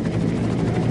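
A Bell UH-1 Huey helicopter drones loud and close, its rotor thumping in a steady, unbroken rhythm with no voices.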